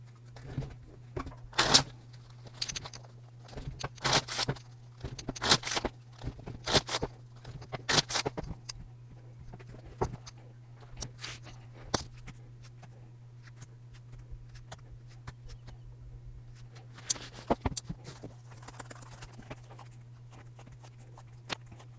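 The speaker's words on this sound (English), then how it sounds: "let's go ahead and shuffle the cards" Oracle cards being shuffled by hand, soft papery riffling and slapping in irregular bursts, quiet and close over a low steady hum, with a pause midway before more shuffling.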